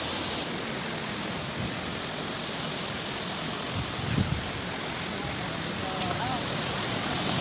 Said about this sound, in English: Welcome to Shallang waterfall.